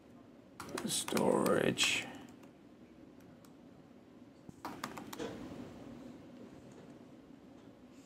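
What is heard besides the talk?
typing on a computer keyboard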